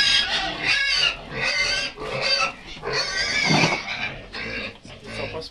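Pigs squealing loudly in a pigsty at feeding time on a farm, a continuous chorus of shrill overlapping squeals and grunts, close by, with faint speech mixed in.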